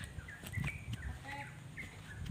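Several birds chirp in short, scattered calls over a steady outdoor background, with a few low sounds underneath.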